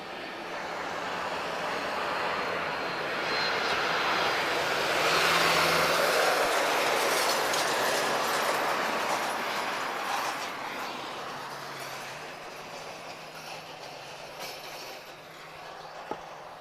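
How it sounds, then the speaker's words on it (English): A Ryanair Boeing 737 Max 8-200 airliner lands at Lisbon Airport, a broad rushing jet roar swelling as it nears and then slowly fading, heard from a distance without speech. "We've got another Max 8-200 inbound. This is Ryanair."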